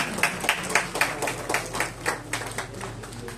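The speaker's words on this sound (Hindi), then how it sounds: "जोरदार तालियां होनी चाहिए" Regular claps at roughly quarter-second intervals from a crowd at a village-level prize-giving ceremony for a pigeon-flying tournament, moderately loud and steady with no talk over them.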